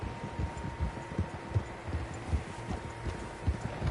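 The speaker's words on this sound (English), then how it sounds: "Horses, quite a few of them." Several horses' hooves clip-clopping in the video game Red Dead Redemption 2, an irregular scattering of soft thuds over a low ambient hum, moderately faint, with no talk.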